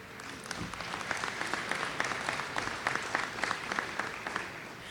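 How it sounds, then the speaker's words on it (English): Audience applause fills a commencement ceremony hall for a community college's class of 2019, a steady wash of many hands clapping with sharp individual claps standing out, sustained throughout at moderate loudness. "you're already clapping for me"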